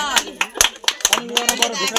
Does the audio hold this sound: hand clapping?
yes